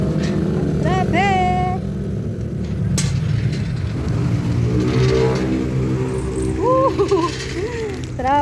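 Heavy road traffic with cars and motorcycles, a steady dense engine rumble throughout, with occasional louder passing vehicles and horn-like tonal bursts, and people talking over it.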